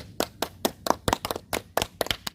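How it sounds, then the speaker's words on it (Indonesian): Scattered hand clapping from a small group of students at a campus management student association talk, about nine distinct uneven claps over a couple of seconds, fairly close and without voices. "Kasih tepuk tangan dulu teman-teman"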